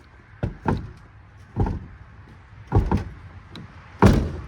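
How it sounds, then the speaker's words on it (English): A door on a junk 12-valve Cummins truck with loose door pins swings open, giving several close, dull clunks and rattles at uneven intervals, with no talking. "You can see as soon as I open the door."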